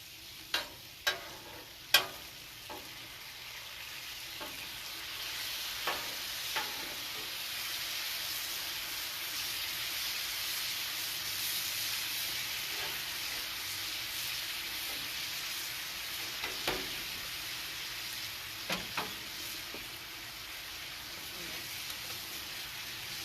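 Teriyaki chicken stir fry sizzles steadily on a grill, a constant close frying hiss with a few scattered clicks and taps from utensils, and no voices.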